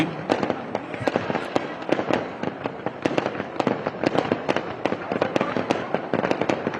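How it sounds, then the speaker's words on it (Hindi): Fireworks at a Ram Navami festival celebration in Orchha, India crackle and pop in rapid, irregular bursts, dozens of sharp bangs overlapping one another at a moderate distance. "ये भव्य आतिशबाजी शुभारंभ है श्री राम जन्मोत्सव के इस पावन उत्सव का।"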